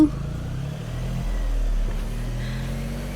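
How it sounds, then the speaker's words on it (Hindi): A car idles and creeps in reverse close by, a steady low engine hum that swells slightly midway, heard alone without talk. "अभी गाड़ी रिवर्स कर रहे हैं"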